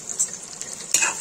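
Chicken stirred in a pan of desi ghee and butter, a close sizzle with two brief scraping stirs of a spoon, the second louder, with no talk.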